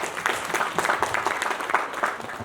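Audience applause at a Mulembe Unity gathering at the Golf Hotel in Kakamega: a steady, dense wash of many hands clapping, fairly loud and sustained throughout with no speech on top.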